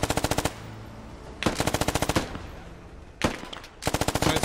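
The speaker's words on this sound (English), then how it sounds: "Machine gun fire comes from southeast." Machine gun fire in the military shooter Squad: sharp, rapid automatic bursts of close gunfire, four separate volleys of a dozen or so shots each, divided by short gaps of low battlefield noise.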